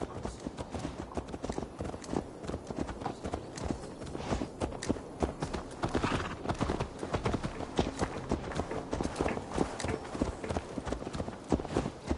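Horse hooves clip-clop at a steady walking pace in Assassin's Creed Valhalla, the dense rhythmic hoofbeats running continuously under the game's ambient background.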